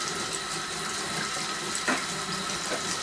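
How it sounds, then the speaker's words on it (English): Kitchen faucet running steadily to warm the water, a continuous hiss of flowing water into a sink that stays even throughout with a brief splashy bump near the middle. "I've got to let my water run for a little hot minute to get it warm"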